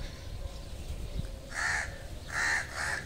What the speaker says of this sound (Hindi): कौवे बहुत सारे हैं यहाँ पे, कौवे बहुत सारे हैं